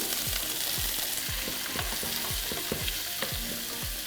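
Carrots, meat and onion fry in garlic-infused oil for plov, a steady loud sizzle with repeated stirring scrapes and clinks, close up and without talk.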